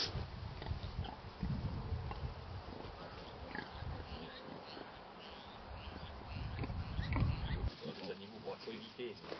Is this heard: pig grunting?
yes